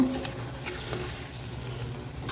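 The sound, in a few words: sautéing broccoli in a pan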